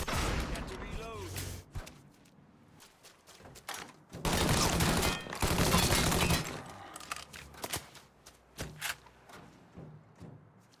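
Gunfire in the crime game Mafia 3 comes in repeated loud bursts and sharp single shots, with a heavy sustained fusillade in the middle and quieter gaps between.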